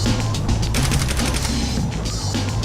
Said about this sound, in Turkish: Bak işte böyle ateş ederim ben.